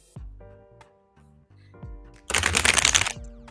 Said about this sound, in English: I'm gonna get this all shuffled up